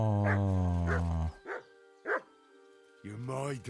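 A dog in the video game Kingdom Come: Deliverance II gives several sharp barks, close and loud, mixed with a voiced, harmonic sound at the start and end.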